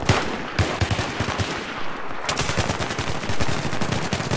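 Automatic gunfire in a Battlefield 3 team deathmatch on the Noshahr Canals map, with rapid unsilenced bursts hammering out one after another and rattling with echo, loud and continuous with no talking.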